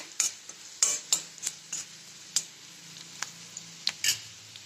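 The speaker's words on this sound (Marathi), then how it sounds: "आता कांदा चांगला खरपूस भाजायचा आहे." Onion frying in a pan for a spicy brinjal curry, stirred with a spoon, giving a series of close scraping strokes and clinks over a soft background sizzle.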